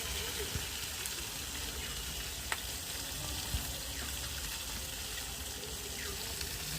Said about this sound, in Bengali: চলো এখন একে একে মাছগুলোকে ভেজে নেব।